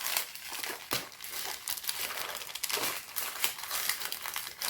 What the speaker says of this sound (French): Je vais aller plier un peu dans la boîte.